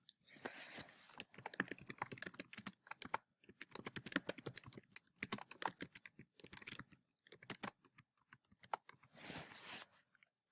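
Typing on a computer keyboard while entering a website citation, with bursts of rapid close-up key clicks separated by short pauses, quiet and alone.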